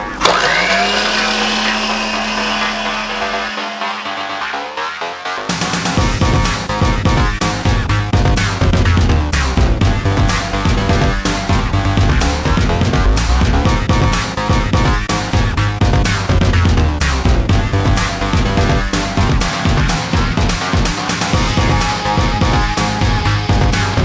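A motorized sausage stuffer pushes venison and pork sausage mix, a loud continuous mechanical whine and grinding hum with rhythmic surging, preceded by a few seconds of a higher motor tone before a sharp shift.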